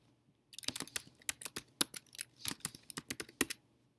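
Fingers tap out a username and password on a computer keyboard, a quick irregular run of crisp, close keystrokes in a quiet room that stops after about three seconds.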